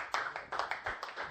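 A church congregation claps in a short burst of a few hand claps, fairly close, ending abruptly.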